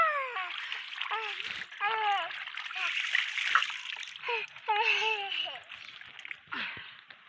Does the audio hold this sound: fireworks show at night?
no